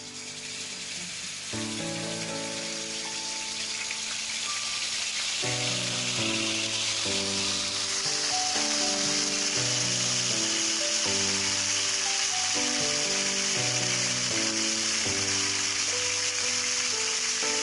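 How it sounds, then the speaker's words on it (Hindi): Marinated chicken frying in a pan over low heat gives a continuous bright sizzle that runs steadily beneath a melodic music track playing throughout. "अब इसको हम फ्राई करें"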